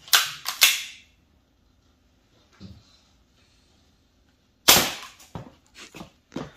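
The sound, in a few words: BB gun or pellet gun firing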